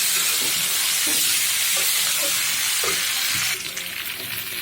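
Green plantains fry in spiced oil in a pan, a loud steady sizzle close up with faint stirring knocks, easing to a softer hiss near the end.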